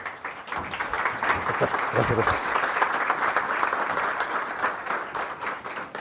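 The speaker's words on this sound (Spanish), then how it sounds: "un aplauso para ti mismo" A seated audience gives sustained applause, a dense even wash of clapping lasting several seconds, with someone speaking briefly over it.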